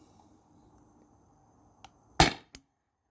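A single sharp, loud report from a CO2-powered air gun with a slight gas leak, fired with CO2 cartridges, rising out of a quiet low hum and followed by a brief fainter click.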